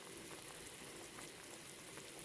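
Rasgulla balls simmering in sugar syrup in a pot, giving a steady, soft bubbling hiss that holds evenly throughout with no voices.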